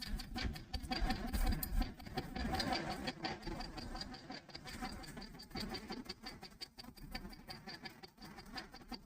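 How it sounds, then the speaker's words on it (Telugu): A sewing machine runs steadily as it stitches along the edge of a neck strip during a tailoring class, giving a continuous, fast, rattling patter of needle strokes that stays fairly close and even throughout. "ఇప్పుడు మనం ఈ పట్టికి చివర్లన కుట్టు అనేది అయితే వేసుకోవాలన్నమాట"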